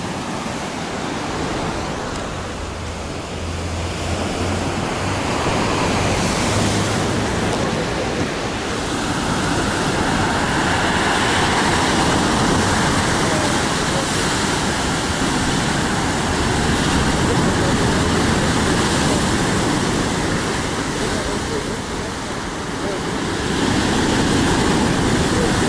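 Stormy sea surf pounds the shore at Lazarevskoye, a dense, continuous roar of breaking waves that swells and ebbs steadily throughout, loud and close, with no clear talk over it.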